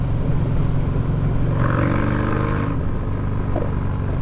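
Harley-Davidson Sport Glide fitted with a Redshift 468 cam, revving on a dyno, its engine tone rising and deepening as the throttle opens, loud and close with a steady mechanical rumble throughout.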